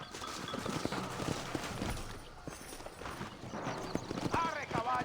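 Hooves clip-clop steadily along under a busy Red Dead Redemption game soundscape, with a horse whinnying near the end and voices speaking over it.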